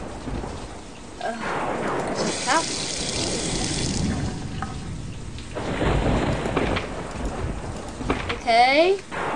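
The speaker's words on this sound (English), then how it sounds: "someone's going to turn off the shower." In the horror game The House II, a shower pours with a continuous loud hiss of water like a downpour. It holds steady throughout, with a brief squealing, wavering tone near the end and some faint voice underneath.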